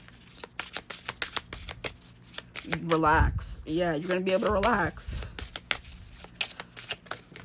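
Tarot cards riffled and shuffled in a rapid, crisp stream of soft slaps throughout, close to the microphone, while someone speaks calmly over the middle of it.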